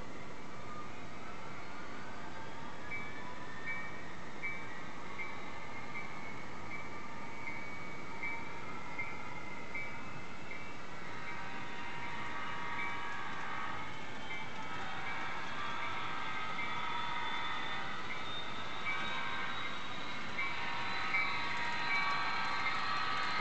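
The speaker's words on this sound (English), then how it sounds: "So we're going to watch the train come through and show you what happens." A model railroad train runs past speed sensors on a club layout, a continuous rumbling roll with faint squealing tones that swells gradually louder and closer over about twenty seconds.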